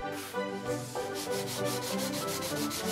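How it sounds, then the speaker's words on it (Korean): Coarse sandpaper scrapes across a fake gold bar in steady back-and-forth strokes, a close, continuous gritty rasp with a regular rhythm and no talking. "굵은 사포부터 차례대로 갈아줍니다."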